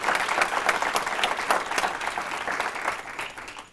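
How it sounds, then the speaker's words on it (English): Audience applause for a president at a higher education diversity event, a steady crowd of clapping hands with distinct claps standing out, fading slightly toward the end with no talk over it. "Let's give our president a round of applause."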